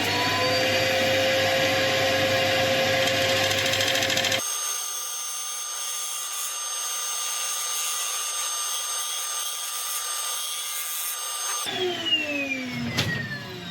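A woodturning tool is sharpened on a bench grinder, with a steady, loud motor whine and a grinding hiss that changes abruptly partway through before the wheel winds down near the end.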